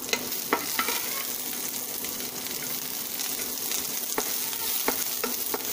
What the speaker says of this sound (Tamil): வெங்காயம் போட்டுக்கிறோம்.